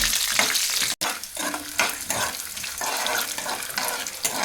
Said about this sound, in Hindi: ये मैंने इसमें मूंगफली भी डाल ली, और इनको अब अच्छे से हमने भून लेना है।